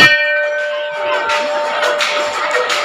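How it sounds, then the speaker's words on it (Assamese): Bell rung at the Doulgobinda temple in North Guwahati during a Doul festival, a loud close metallic strike at the start whose bright ringing tones sustain and slowly fade, with a few softer clanks and crowd murmur around it. "আৰু এইফালে এবাৰ ঘণ্টাটো বজাই"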